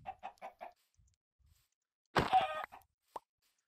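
Chickens in the Minecraft video game give a rapid run of four short clucks, then a longer squawk and a single brief cluck, each crisp and close against silence.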